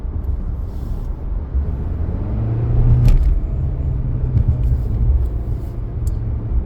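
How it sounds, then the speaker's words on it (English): A truck passes by outdoors, its low engine rumble building to a peak midway and then easing off, with a steady roar underneath and no talking. "I was just watching that truck right there"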